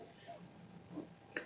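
A pen or marker writes on a board in an accounts class, making a few faint, brief scratching strokes that end with a slightly sharper tap.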